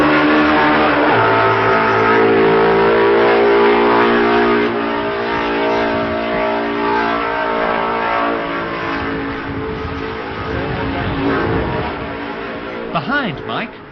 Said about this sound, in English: On lap 5 at Stella Maris, Halewood's MV sounds most peculiar